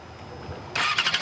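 A 600 cc sport motorcycle fires up after a quiet lull, its engine catching abruptly and revving in uneven pulses, close and fairly loud.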